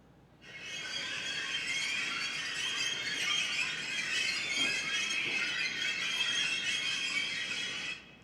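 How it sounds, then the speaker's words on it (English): A Columbia Heights Metro station escalator lets out a continuous high-pitched squeal that holds steady for about seven and a half seconds and then stops. It is loud and close, with no talking. "This is the sound of the escalator at Columbia Heights."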